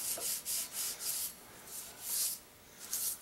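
Rust remover being rubbed off metal, with a chemical cleaner scrubbed by hand over a threaded part; repeated brisk rubbing strokes with a soft hiss, several passes in a steady rhythm, close and clear with no talking.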